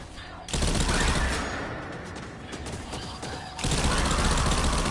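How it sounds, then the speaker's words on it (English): Heavy machine gun fire in Destiny 2, loud and close, in sustained rapid bursts with a short drop in intensity midway before the firing surges again. "heavy machine gun."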